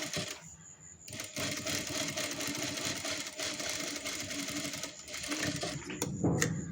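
An electric sewing machine stitching a blouse sleeve runs in close, rapid mechanical bursts with short pauses between them, a steady rattling whir that starts and stops.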